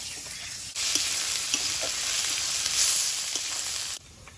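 Whole garam masala, bay leaf, crushed garlic and chopped onion fry in oil and ghee in a karahi, a close, even sizzle with a few soft stirring clicks, stopping abruptly near the end.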